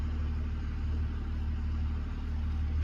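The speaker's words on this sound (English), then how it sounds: "Sounds like a Cummins." Steady low diesel rumble of a Cummins engine idling nearby outdoors, continuous and even with a faint rattle, no talk over it.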